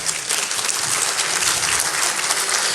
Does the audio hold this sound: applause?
yes